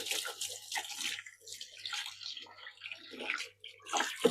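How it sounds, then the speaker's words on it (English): Gloves rinsed under running tap water in a kitchen, splashing and gushing in uneven bursts with short pauses, close by, no talking. "Just rinse my gloves through."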